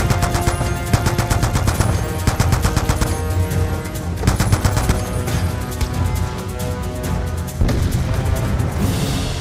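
Sustained machine gun fire in Call of Duty: Black Ops 2, shot from mounted MGs on a boat, with dense rapid bursts and overlapping shots under booming battle noise, loud and continuous throughout.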